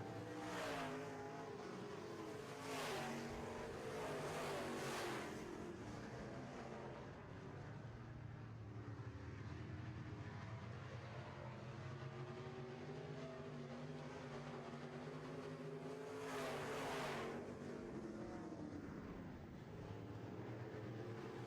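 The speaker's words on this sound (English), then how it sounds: "They are drag racing all around this course." Midwest Modified race cars roar around a dirt oval track in a heat race, engines droning steadily with repeated louder swells as cars pass close, then fading into the distance.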